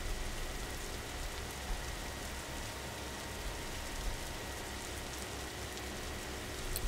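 Steady heavy rain in the video game Booth falls without a break, a dense, even hiss of drops on surfaces that holds at a constant loud level throughout, with no voices.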